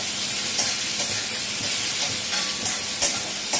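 Egg 65 fries with chopped green chillies in a pan over a gas flame. A steady, dense sizzle runs throughout with a few soft stirring scrapes, close up and with no voices.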